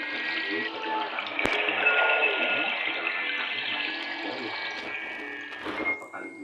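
Fast, shallow river water rushing steadily past, heard from a boat, with a broad continuous wash and a faint tonal hum beneath that holds through the whole stretch before easing slightly near the end.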